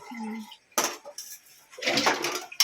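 Plates are taken and handled at home, bright clinks and clatters of dishes and cutlery in short bursts, with a voice heard briefly at the start.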